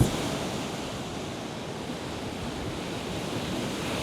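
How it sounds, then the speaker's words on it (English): Ocean surf on an empty Miami beach, a loud, steady roar of waves with wind buffeting the microphone, no voices heard. "I know the waves are crashing."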